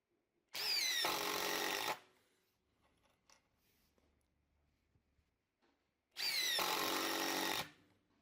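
A DeWALT DCF850 impact driver in mode 3 drives screws in two bursts of about one and a half seconds each, a loud rapid hammering whine up close, separated by quiet handling noises.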